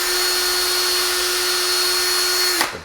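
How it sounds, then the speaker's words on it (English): A small drill bit, about 3/16 inch, bores pilot holes for a door knob on an interior pre-hung door, giving a steady high-pitched whine at close range that cuts off abruptly near the end. "Pre-drill just really small."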